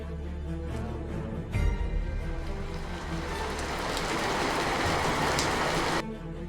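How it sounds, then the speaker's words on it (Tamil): Heavy rain pours down steadily, a dense, continuous hiss of drops beating on surfaces that swells slightly near the end before cutting off, with a low thud early on. "மழை பலமா பெய்யுது."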